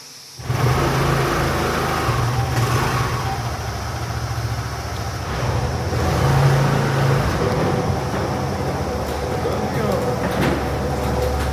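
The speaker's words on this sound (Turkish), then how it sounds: "Bugün motorla gidiyorum." A loud, steady motorcycle engine drone with rushing wind noise while riding, continuous throughout with a low rumble underneath.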